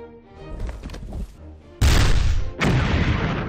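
In the strategy video game Battle Academy 2, cannon fire sounds as two sharp, heavy booms with rumbling tails that ring out after quieter battle noise.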